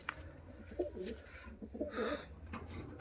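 A female pigeon carrying eggs, held in the hand, coos softly a few times nearby, low murmuring calls in a quiet setting.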